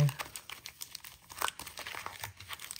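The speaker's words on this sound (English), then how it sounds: "Shuffling these up, not looking." Pokémon card packs from Eeveelution tins being shuffled by hand, giving a close, continuous crinkling and rustling of foil wrappers with uneven bursts and no talk.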